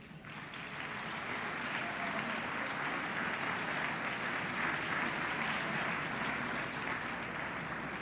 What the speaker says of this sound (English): I'd like first to have a little additional round of applause for the Talisman.